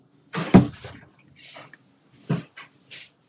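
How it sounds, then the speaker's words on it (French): Indoors, a door is pushed shut with a sharp thump, then a few softer knocks and rattles come in short bursts with quiet gaps. "Je ferme la porte là."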